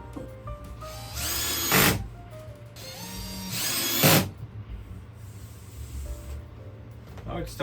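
Power drill driving screws into the aluminum frame of a lightweight campervan panel, two loud whirring bursts close by, with a person talking in between.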